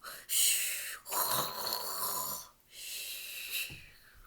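A voice imitates snoring with a few drawn-out rumbling, breathy snores, separated by short pauses.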